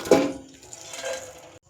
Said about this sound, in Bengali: আমি মটরগুলো ঢেলে নিয়েছি,